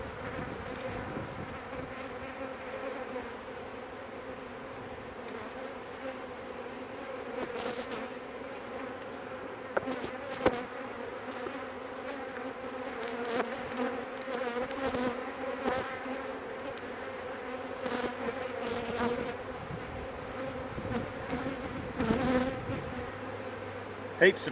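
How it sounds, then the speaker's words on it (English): A dense, steady drone of honey bees swarming a crowded hive as it is split, with occasional soft knocks and clicks of handling over the continuous buzz; no voices. "There's certainly more bees in that top box."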